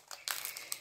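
Thin plastic packaging over glue crinkles in a short burst of soft rustles, close and fairly quiet, with no voice.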